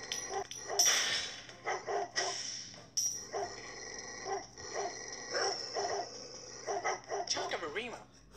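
Dogs barking and yipping in the mobile stealth game Robbery Bob 2, short repeated bursts at moderate level recurring throughout, with a voice talking over them.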